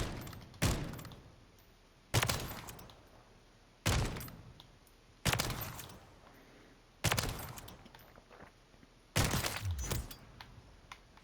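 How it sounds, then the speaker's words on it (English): A bolt-action sniper rifle with a tactical short barrel fires in a video game, six sharp, loud shots at a steady pace, each about two seconds apart with a ringing decay. "Look how fast that bolt action is."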